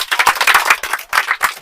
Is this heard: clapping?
yes